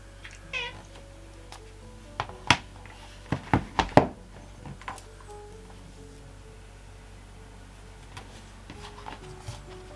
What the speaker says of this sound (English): You'll have to excuse his meowing for a moment.